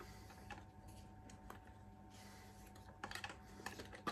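Nerf N Series darts being loaded into the rotating cylinder of an Agility revolver, light plastic clicks and taps at irregular intervals, close up, with a busier cluster of clicks near the end.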